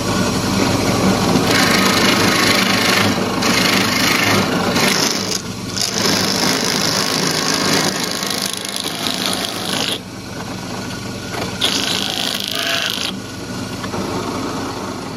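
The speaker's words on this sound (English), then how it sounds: "I'm going to get a perfect circle on the drill press" A loud drill press grinds continuously through oak, the motor droning under shifting rough cutting noise that surges and eases over several seconds.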